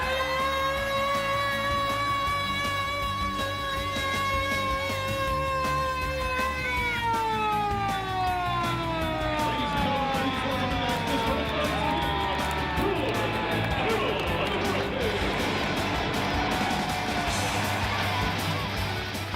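A wailing arena siren at a Carolina Hurricanes hockey game, loud and sustained, its pitch sliding down partway through as crowd cheering rises beneath and then takes over.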